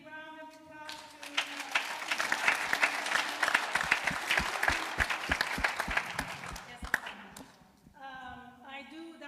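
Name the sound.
applause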